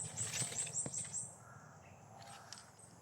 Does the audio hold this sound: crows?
yes